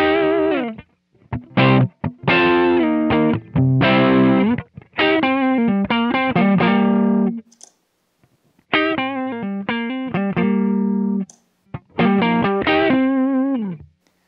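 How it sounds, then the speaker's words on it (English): Electric guitar played through a Deco tape saturation pedal pushed hard, producing thick distorted, compressed chords in repeated bursts separated by short gaps, loud and close with no voices. "As we increase saturation further, we push the system harder and start creating more distortion products"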